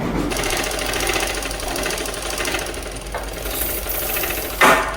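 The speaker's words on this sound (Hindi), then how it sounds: "चलिए हम स्टार्ट करते हैं स्टिचिंग।" Sewing machine stitching salwar panels together, a rapid mechanical needle chatter running steadily, a brief louder burst near the end, no talking.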